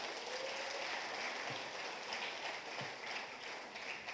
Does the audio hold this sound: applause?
yes